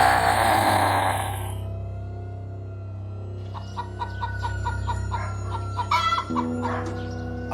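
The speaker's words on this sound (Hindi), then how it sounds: "अरे ये तो बहुत सारा मोटा ताजा मुर्गी है।" Chickens clucking close by, a steady scatter of short clucks over a constant low hum, with no talking.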